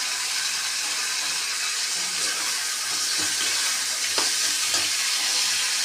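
Garlic, green chili and tomato fry together in fish oil for a Bengali fish roe curry, giving a steady, loud, close sizzle with a few soft stirring knocks and no talking.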